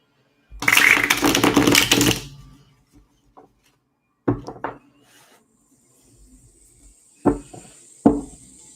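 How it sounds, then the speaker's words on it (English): A burst of riffling cards runs for over a second, followed by a few soft taps and shuffles spread out across otherwise quiet moments. "All right, let's shuffle."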